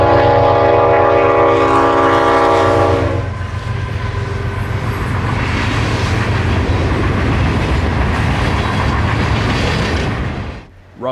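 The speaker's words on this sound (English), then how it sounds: "But the horn still sounded sweet as he sped through rural Zephyr Hills." A train horn blares loud and steady for about three seconds as the train speeds through rural Zephyr Hills. The rumble and clatter of the passing rail cars continue underneath, and everything cuts off near the end.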